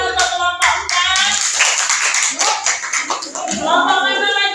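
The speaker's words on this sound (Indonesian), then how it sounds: "tepuk tangan untuk kelompok 4." Classroom students clapping for a group of classmates, a loud, dense burst of hand claps with voices calling out over it throughout.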